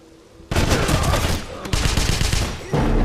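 Gunfire in the 2009 Wolfenstein game set in Isenstadt: loud, dense bursts of rapid automatic fire in three sustained volleys separated by short breaks.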